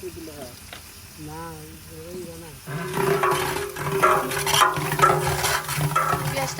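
Onions fry and sizzle in a pan for Eid cooking, a steady loud crackling hiss that swells partway through, with a voice talking over the start.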